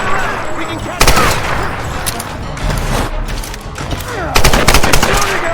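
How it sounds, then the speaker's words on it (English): Gunfire in Tomb Raider: Definitive Edition, loud and close, with several dense bursts of rapid shots and rattling automatic fire separated by brief lulls, amid battle noise. "She's shooting at us!"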